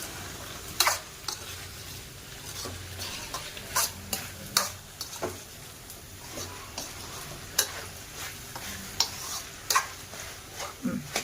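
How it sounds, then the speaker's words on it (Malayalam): Vegetables for a Kerala mezhukkupuratti sizzle in hot oil in a pan, a continuous close hiss punctuated by sharp clicks of a spoon stirring against the pan. "ഈ എണ്ണയിൽ കിടന്ന് ഒന്ന് പെരണ്ട് വരട്ടെ."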